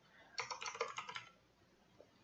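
Quick bursts of typing on a computer keyboard during a programming logic lesson, a rapid run of key clicks lasting under a second, then a few sparse taps, fairly quiet and close with no talk.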